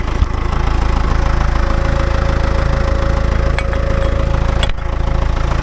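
A vehicle engine idles steadily with a constant mechanical rumble, loud and close, with a brief knock or clank near the end.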